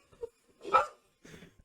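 A few separate barks from Nathan's dog in a played-back recording, one louder yelp in the middle flanked by softer ones, with no talk over them.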